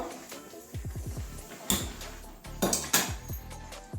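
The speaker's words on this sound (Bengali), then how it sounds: "কড়াইটা বসিয়ে দিচ্ছি" A metal wok set down on a gas stove for cabbage fritters gives a few sharp metallic clanks and scrapes among close kitchen clatter, with bright clangs near the middle and end.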